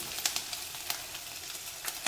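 Vadagam tempering in hot sesame oil: a continuous bright sizzle and crackle with occasional sharper pops, moderately close and steady throughout with no talking.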